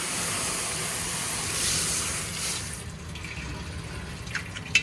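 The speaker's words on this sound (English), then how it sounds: "Turn on some water and give it a good rinse" Tap water runs steadily into a composite kitchen sink for a rinse, a broad hissing splash that eases slightly toward the end, with a small clink near the close.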